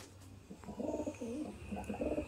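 Golden pigeons coo in a close, repeated series of soft, rolling calls, several phrases following one another over a faint steady background hum.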